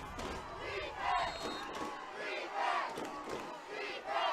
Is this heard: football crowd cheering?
yes